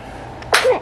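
A one-month-old baby girl lets out a single short, sharp sneeze, close and clear after a faint intake of breath.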